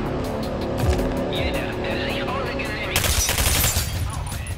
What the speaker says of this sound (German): jetzt habe ich natürlich Schüsse verballert